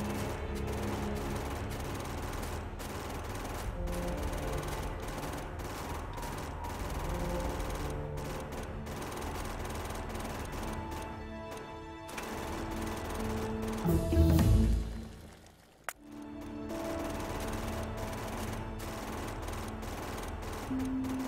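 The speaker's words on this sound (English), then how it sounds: "Let's just use the gun" Gun fire in the factory-building game Factorio, a dense stream of rapid automatic shots under a steady mechanical background, briefly swelling and cutting out near the end before resuming.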